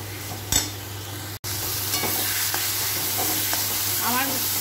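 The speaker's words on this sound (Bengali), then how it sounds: "এইভাবে আমি এখন কিছুক্ষণ কষাবো যতক্ষণ না তেলটা মশলা থেকে বেরিয়ে আসছে" Spice paste sautéing with fried onions and salt in oil, making a continuous close sizzle broken by spatula scrapes and stirring clicks, with a brief dropout early on and no talking.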